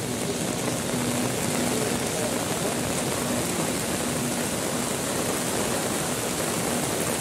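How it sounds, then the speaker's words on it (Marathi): Dabosa waterfall roars in a powerful, unbroken rush of falling water, loud and continuous from start to finish, with rain falling nearby. "तर आपण बघू शकता हा आहे दाबोसा धबधबा"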